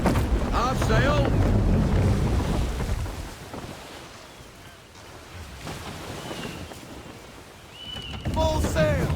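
A sailing ship driven by wind in Assassin's Creed III, rushing gusts and rolling sea noise that surge loudly, ease off in the middle, then swell again, with game voices calling out over it.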